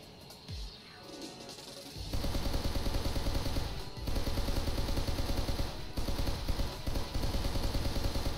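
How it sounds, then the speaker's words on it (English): Gunfire from an enemy aircraft in the flight combat game Sky Rogue; rapid, continuous machine-gun rattling over a droning engine, briefly broken by short gaps, loud and steady after a quieter start. "Oh, okay, this guy is shooting at me."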